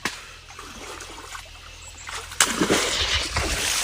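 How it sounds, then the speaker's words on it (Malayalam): River water splashes and sloshes nearby, growing louder and more vigorous partway through as water is thrown, with a steady trickling wash underneath. "ഈ വെള്ളം തെറിപ്പിച്ച് ഞാൻ തലയിൽ കൂടി കമത്തും."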